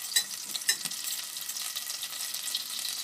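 Butter melts in a pan for a béchamel sauce, giving a soft, steady sizzle and crackle with a couple of light clinks near the start, and no talk.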